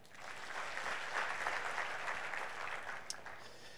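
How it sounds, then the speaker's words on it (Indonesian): A church congregation claps together during a sermon, a moderately faint wash of applause swelling and holding for a few seconds before tapering, with one sharper clap near the end. "Berikan tepuk tangan ya."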